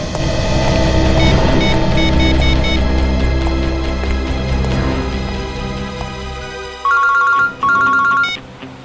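A mobile phone ringtone plays a bright repeating melody over a loud droning hum, then rings alone in short bursts after the hum drops away.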